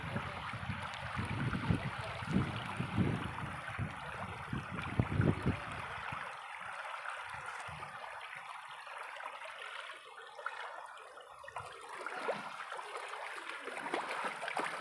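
Heavy floodwater after strong rain rushes steadily in a broad, continuous wash, with a rougher low rumble in the first few seconds before settling into an even flowing hiss.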